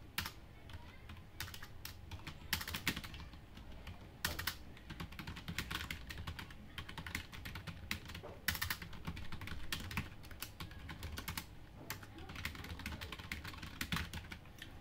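Rapid clicking keystrokes on a computer keyboard while typing text in the vim editor in a Linux shell, irregular bursts of close taps with short pauses, no talking.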